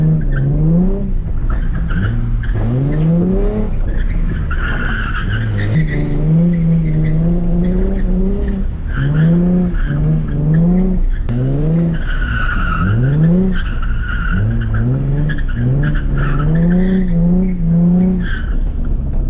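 A car drifts on wet pavement in the rain, its tires squealing and skidding in repeated rising and falling howls with the engine revving throughout, loud and close for the whole stretch; no talking.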